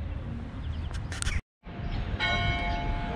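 A clock tower bell rings over the main square in Bitola, its sustained metallic tones carrying through outdoor street ambience after a brief cut in the sound.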